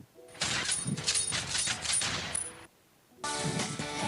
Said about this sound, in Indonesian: Ada efek tembakan juga.